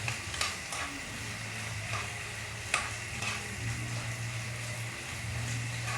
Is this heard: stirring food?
yes